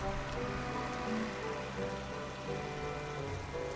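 Steady rain falls on the countryside, a constant even patter of drops on surfaces with no breaks and no voices.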